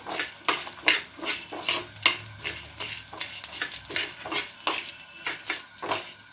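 Lentils and sesame seeds dry-roast in a pan while a spoon stirs them in a quick, repeated rhythm of close scraping and rattling strokes over a light crackle.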